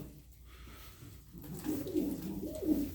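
Pigeons coo softly and repeatedly amid a low background murmur at a pigeon market in Edirnekapı, Istanbul, growing a little louder toward the end.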